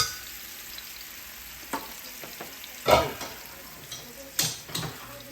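Mushroom stems frying in a pan, a low steady sizzle broken by several stirring scrapes and clacks of a utensil, close by and moderately loud.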